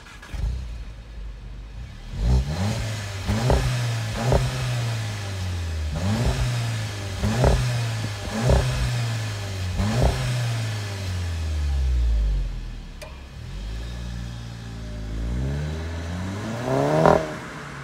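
A VW GTI fitted with a new exhaust revs repeatedly nearby, about seven sharp throttle blips each rising then falling back to a low idle burble, then a longer, slower rev at the end.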